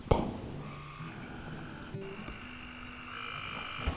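Frogs croaking after rain in a chorus, overlapping calls with a few louder, closer croaks against a steady outdoor background on a farm.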